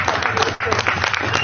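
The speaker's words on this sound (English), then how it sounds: "A clap out. A clap out." Applause and clapping from a gathered crowd in a clap out for a departing staff member, a steady dense patter lasting throughout with a brief dip midway, voices mixed into the noise.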